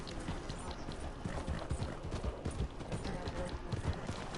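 Horse hooves clip-clop steadily in Red Dead Redemption 2, a quick, even rhythm of hoofbeats set low and faint in a dense wash of game noise.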